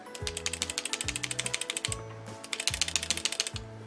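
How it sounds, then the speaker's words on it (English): A Tombow MONO Graph shaker mechanical pencil is shaken to advance its lead, giving rapid rhythmic clicking and rattling in two quick bursts separated by a short pause, close and clear. "you can also just shake it and you see there's a little metal bit here that moves when I shake it"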